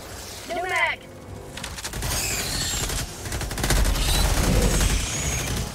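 Dense rapid machine gun fire and booming combat blasts in Helldivers 2 at the highest difficulty, loud and sustained, with a voice talking early in the clip.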